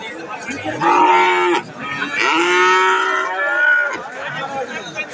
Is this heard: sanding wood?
no